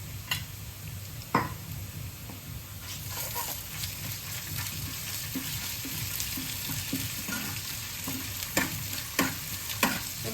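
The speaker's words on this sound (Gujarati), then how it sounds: "ચલો ડુંગળી સતળાઈ ગઈ અચ્છા આદુ લસણની પેસ્ટ" Onions frying with ginger garlic paste in a pan, a steady close sizzle with occasional stirring scrapes and clinks of the spoon, no talking.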